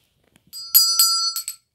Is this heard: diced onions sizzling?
no